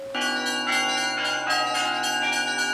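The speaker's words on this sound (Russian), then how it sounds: "Этот вид звона называется трезвон" Church bells in Greece ring a lively trezvon peal, several bells struck in quick overlapping succession with a sustained shimmering tone throughout, loud and close.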